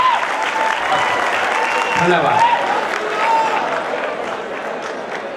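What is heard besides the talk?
audience applause for a boy's performance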